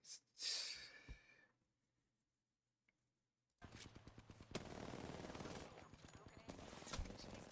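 Rapid video-game gunfire bursts out in a long, dense automatic stream after a short loud burst and a near-silent gap, with breathy noise early on.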